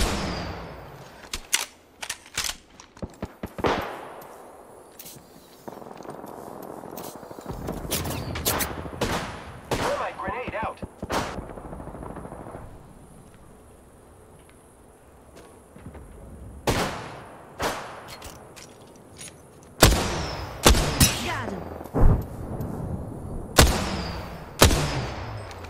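Bursts of gunfire: a long, irregular volley of sharp shots, clustered early, then a quieter stretch before loud shots resume in quick groups toward the end.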